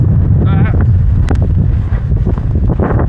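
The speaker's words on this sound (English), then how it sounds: "And it's windy with some stronger gusts like this." Strong wind gusts buffet the microphone on an open farm in bitterly cold weather, a loud continuous low roar with surging bursts, while blowing snow hisses faintly and a brief voice cuts in.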